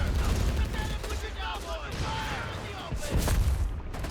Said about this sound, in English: Church collapses under heavy German artillery fire.